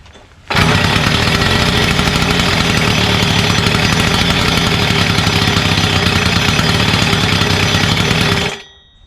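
A gas EZGO Workhorse 1200 utility golf cart engine, freshly repowered and started with starter fluid, runs loud and steady at idle for about eight seconds, kicking in abruptly and cutting off near the end with no talking.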